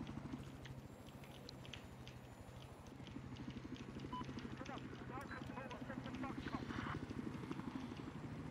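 A scout helicopter in a combat video game, its rotor chop a steady, fast pulsing thud throughout, with scattered gunfire-like pops and game effects layered on top, and someone speaking over it.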